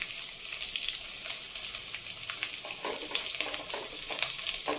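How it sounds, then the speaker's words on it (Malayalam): Crushed ginger, garlic and chili fry in hot oil in a pan, giving a steady bright sizzle with scattered crackles and pops, close and alone without talk. "പിന്നെ നമ്മൾ ക്രഷ് ചെയ്ത് വെച്ച ഇഞ്ചിയും വെളുത്തുള്ളി ഇട്ട് കൊടുക്കാം. പിന്നെ മുളകും."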